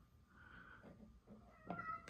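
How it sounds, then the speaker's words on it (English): A house cat meows faintly indoors, a couple of soft calls with the clearest near the end, heard over a quiet room during a knife unboxing. "That's my cat making noise."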